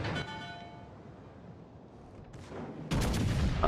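Secondary guns on a warship in World of Warships: Legends fire in a sharp burst near the start, then a quieter rumbling stretch before a heavy volley of booming shots erupts loudly at the end.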